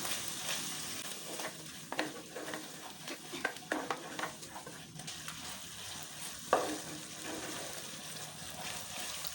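Yogurt sizzles quietly in a pan on a low flame while a spoon stirs it, giving soft bubbling under irregular scraping strokes, near and alone.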